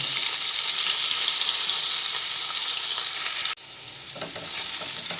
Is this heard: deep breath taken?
no